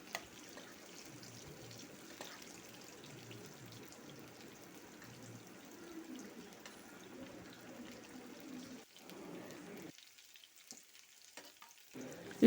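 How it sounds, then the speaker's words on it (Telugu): Cauliflower pieces frying in hot oil, a faint steady crackle and sizzle running throughout with light stirring, dropping out briefly near the end. "గోబీ ముక్కలన్నీ కూడా ఆయిల్లో చక్కగా వేగాలి."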